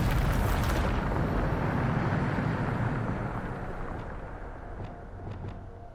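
A Bombarda explosion spell cast in Hogwarts Legacy, a loud deep blast with a heavy rumbling roar that slowly decays over several seconds, with faint crackling debris near the end.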